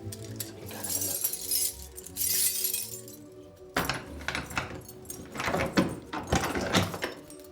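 Keys jangling as the prop store at a film studio is unlocked, bursts of bright metallic rattling and clinking close by, coming in uneven clusters with a door-like thump midway.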